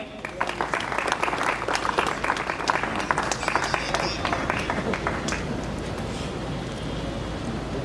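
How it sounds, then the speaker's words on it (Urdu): An audience at a 2023 Minority Day conference in Karachi claps while a bouquet of flowers is presented, with brisk, dense applause that holds steady throughout and slightly thins toward the end. "آپ سب کی تالیوں میں"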